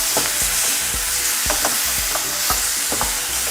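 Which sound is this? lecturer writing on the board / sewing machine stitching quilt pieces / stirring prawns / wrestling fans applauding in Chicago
stirring prawns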